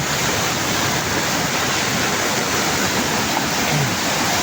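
A swollen stream running high and fast after days of spring-fed flow, its water rushing in a loud, steady, close-up roar with no voices.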